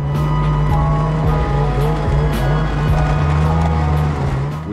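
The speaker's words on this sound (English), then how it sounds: "We are about 2 miles in and we're already experiencing overheating problems with the snowmobiles." Snowmobiles climb an icy spring trail on a ski mountaineering trip, overheating, their engines droning loud, close and continuous with a rough, steady roar throughout.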